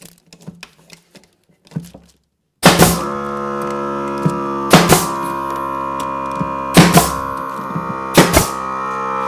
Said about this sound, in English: I'm just going to shoot some brads in from the inside